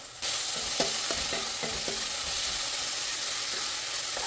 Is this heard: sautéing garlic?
yes